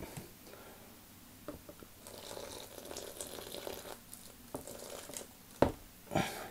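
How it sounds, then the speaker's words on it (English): Plain water poured into a terrain mix, giving a faint, soft trickle and splash with some crinkling and mixing noise, quiet and close, ending in a couple of sharper sloshes. "Just normal water being added in"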